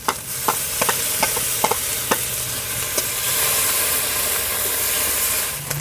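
Onion, ginger, cumin and garlic paste sizzles in a pan for a village-style fish curry. Sharp stirring clacks at irregular intervals ring over a continuous hiss, and no one speaks.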